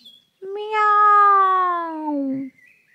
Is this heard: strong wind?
no